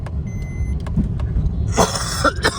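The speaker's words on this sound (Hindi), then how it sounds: "जैसे ही बोलना शुरू करता हूँ खांसी हो जाती है।" Harsh bursts of coughing near the end, close and loud, after a stretch of low rumbling traffic and faint beeping on a road trip from Delhi to Bhimtal.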